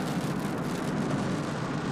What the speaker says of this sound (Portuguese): Então, caramba, uma chuvarada agora.